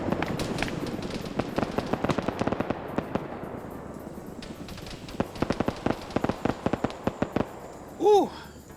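Heavy gunfire in a military video game: rapid cracks of many shots in dense, rattling volleys, some close and sharp, others softer, continuing through the whole stretch under a brief voice.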